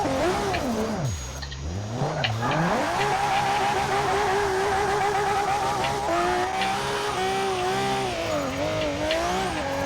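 In Forza 6, a van drifts around a corner: a loud engine revs and bogs in wavering sweeps while tires squeal steadily, dipping briefly early on before climbing back up.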